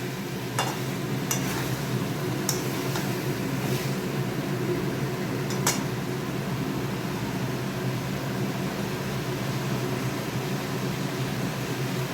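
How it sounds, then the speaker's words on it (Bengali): Ginger-garlic-onion paste and spices sautéing in a pan, giving a steady, close sizzle with a few scraping stirs of a spoon against the pan. "একেবারেই অল্প মশলা দিয়ে কষিয়ে নিচ্ছি ভালো করে"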